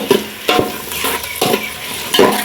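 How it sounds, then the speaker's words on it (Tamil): Onions with cinnamon, cardamom and cloves frying in a pot for chicken biryani, loud close sizzling broken by four or five rhythmic scraping stirs, with no voices. "மிக்ஸ் பண்ணி இதை நல்லா பொரிச்சு எடுத்துக்கோங்க. வெங்காயம் நல்லா வதங்கி வரும் வரைக்கும்."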